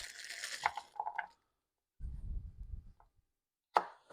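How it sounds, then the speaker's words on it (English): A knife chops baby carrots on a board for clam chowder: a few crisp, close cuts, a pause with a low rumble, then one sharp final chop. "let's just use some of these baby carrots, and we will cut up about a half a cup"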